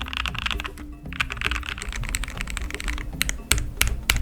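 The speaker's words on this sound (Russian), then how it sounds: "Вы наверняка слышали о том, что существует 2 вида звука у клавиатур." Rapid typing on a Redragon Fizz K617 budget mechanical keyboard, a close, dense patter of clicky keystrokes with irregular rhythm and a few sharper, louder clacks near the end.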